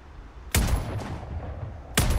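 Two loud, sharp AK rifle shots in the video game Sniper Ghost Warrior Contracts, about 1.4 seconds apart, each with a long booming decay that fades into a low background rumble.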